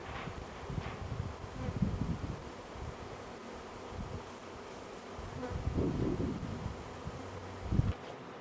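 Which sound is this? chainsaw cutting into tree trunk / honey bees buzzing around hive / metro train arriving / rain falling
honey bees buzzing around hive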